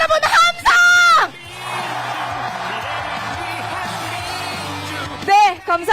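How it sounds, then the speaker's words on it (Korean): Large crowd at an outdoor political rally in Ulsan, South Korea, roaring and cheering as one broad sustained wash of voices, framed by an amplified announcer's chanting voice before and after. "울산 시민 여러분 함성!"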